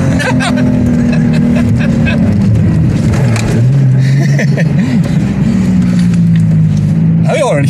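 A turbocharged Lexus GS300 held at full throttle while being braked in a drift, its engine droning loud and close with rising and falling revs, while someone talks over it.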